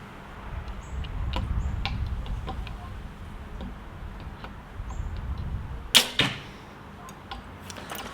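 An arrow is loosed from a PSE Perform X target bow and strikes the target, a sharp close snap and thud followed by a second smaller impact, with light ticking around it.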